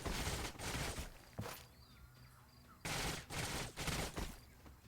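Bursts of rapid gunfire in the strategy game Age of Wonders: Planetfall, two clusters of sharp repeated shots separated by a quieter lull, loud and close.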